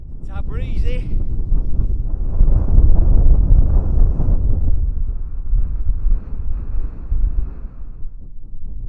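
Gusty wind on a hike in the Lake District fells, buffeting the microphone in heavy low rumbling blasts that swell and ease, with a brief higher sound near the start.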